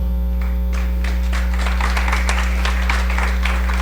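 Audience at a Biblioteca Nacional Aruba event breaks into steady, fairly loud applause lasting several seconds, with a constant low electrical hum beneath the clapping.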